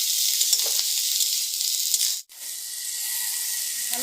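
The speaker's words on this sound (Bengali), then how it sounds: "এবার আঁচ বাড়িয়ে ভালো করে এক মিনিট ভেজে নিতে হবে" Snake gourd fries hard over high heat, a loud, dense sizzle filling the pan, briefly cut by a sharp break midway before the steady frying hiss resumes, with no voices.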